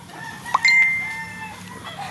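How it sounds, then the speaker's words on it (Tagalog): Chickens and roosters kept for sale give a few short clucks and squawks, close and fairly loud, in a brief burst with no talking. "Dami talaga dito yung mga manok"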